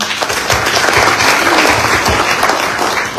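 An audience bursts into loud, full applause, a thick wash of many hands clapping continuously from start to finish with a few sharper individual claps standing out.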